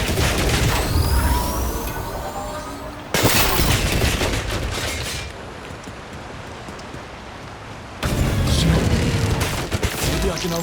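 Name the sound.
turret gunfire in the video game 007 First Light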